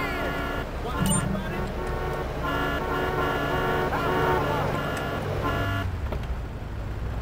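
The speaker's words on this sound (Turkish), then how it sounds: "Korna çalıp durma birader." Car horns honking repeatedly in the Liberty City traffic of GTA 3 during a bank robbery mission, with engine and traffic noise throughout and someone talking over the sustained honking.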